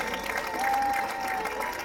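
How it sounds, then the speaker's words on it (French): Applause from a crowd at an organised cycling hill-climb event, continuous clapping at moderate distance under a steady murmur, with a brief tonal whine running through the middle. "J'attends que vous applaudissiez."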